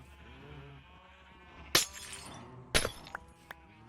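A Minecraft sheep on a wool farm bleats softly in drawn-out tones, broken by two sharp, bright snaps and a few small clinks.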